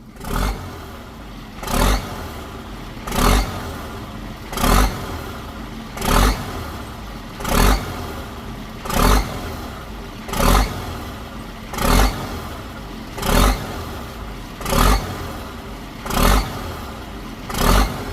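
A big purple 8210 turbo truck engine with its original turbo and racing springs fitted, revved in a steady rhythm: about a dozen loud, close throttle blips roughly every second and a half over a rumbling idle, with no talking.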